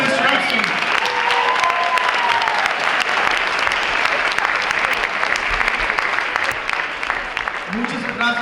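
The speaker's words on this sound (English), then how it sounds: "Let's give a round of applause to all of our performers and to Mr. Epson." Sustained applause from a school winter concert audience for the performers and their music teacher, dense and steady from start to finish with crowd murmur beneath.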